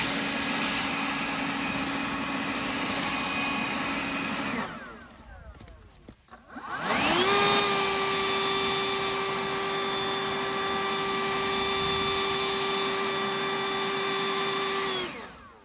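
A Toro 60V battery electric leaf blower runs on high with a steady whining roar, briefly winds down, then surges back louder and higher on boost and holds, close and alone.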